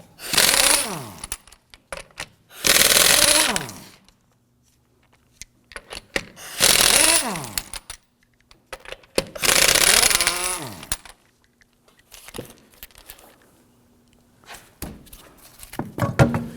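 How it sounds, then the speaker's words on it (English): A powered driver with a 19mm socket loosens lug nuts on a 2008-2011 Ford Focus front wheel: four loud, close bursts of rattling, hammering whirr, each a second or two long, with quieter clanks and shuffling between them. "Using a 19mm socket, we're going to loosen and remove the lug nuts."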